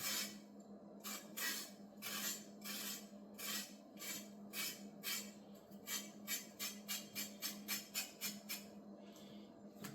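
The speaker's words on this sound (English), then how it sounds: "some people like to peel a carrot. You can also scrape it. I scrape it." Carrot being scraped with a knife while cooking curried chicken: a long run of brisk, rasping strokes, slow at first and then quickening into a rapid even rhythm, close up over a steady low kitchen hum.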